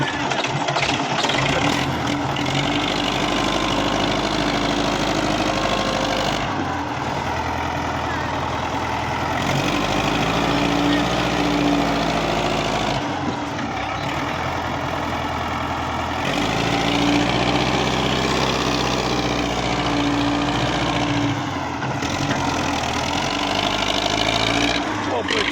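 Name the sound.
Belarus tractor engine running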